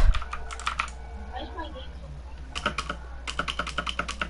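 Mechanical keyboard keys clatter in quick close bursts during a Fortnite squads session, with a short pause in the middle and a steady low hum beneath, while a voice speaks briefly.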